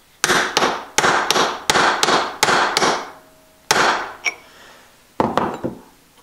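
Hammer smacking an old scrap bearing ball down into a valve seat: a rapid run of about eight sharp metallic strikes, then a pause and a few more ringing blows, close and loud.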